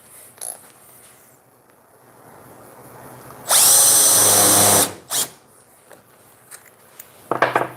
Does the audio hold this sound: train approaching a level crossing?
no